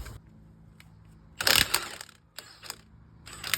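Ratcheting clicks of a torque wrench tightening the wheel lug nuts on an RV trailer during a tire change, in loud close bursts separated by quieter pauses.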